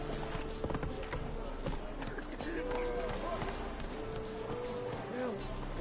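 Roach, the horse in The Witcher 3, gallops in a steady, close clip-clop of hooves that runs throughout over a busy bed of game sounds, with a voice speaking in places.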